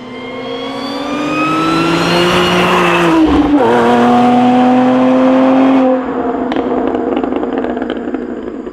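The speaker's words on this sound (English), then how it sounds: "The supercharger screams." A supercharger on a modified Audi S4 Avant with a dual-pulley setup screams as the engine revs hard, a loud rising whine that dips on a shift, climbs again, then eases off.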